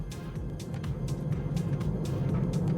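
Tesla on FSD Beta driving through residential streets toward a roundabout: steady low road and engine rumble with tyre noise, a continuous moderately loud drone with faint brief swishes.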